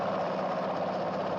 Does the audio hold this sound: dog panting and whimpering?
no